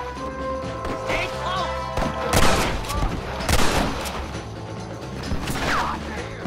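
Gunfire in the Red Dead Redemption western game, scattered loud shots and crashing impacts in an irregular exchange, with shouted voices and clattering mechanisms between the blasts.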